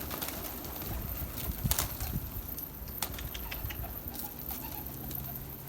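Pigeon-like cooing comes through a dense, noisy game soundscape, with a few soft repeated coos and scattered clicks at steady volume.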